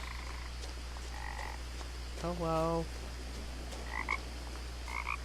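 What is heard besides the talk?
frogs croaking in the video game What Remains of Edith Finch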